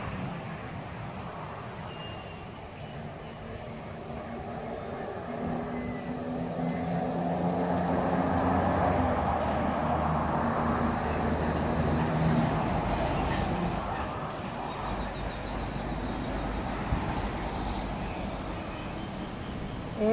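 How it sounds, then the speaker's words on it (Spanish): Heavy trucks pass along a road near a home, a broad rumbling swell that builds and lingers for around twenty seconds of steady traffic noise. "Hoy, por ahí pasan los camiones."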